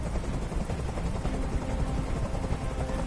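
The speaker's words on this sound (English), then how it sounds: "Tell that helicopter to get out of here." Helicopter rotor noise in the video game Detroit: Become Human, a steady, dense thudding drone that fills the whole stretch at constant loudness without letup.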